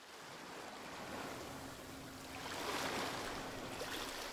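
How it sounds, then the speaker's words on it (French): Sea waves on the Normandy coast give a steady rushing wash of surf that swells slightly toward the end, continuous and fairly soft, with no voices. "le bruit des vagues"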